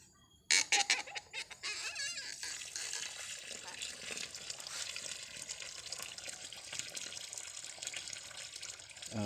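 Water runs steadily after the valve of a three-tier pot system is opened, a continuous flowing splash under chickens clucking and someone talking nearby.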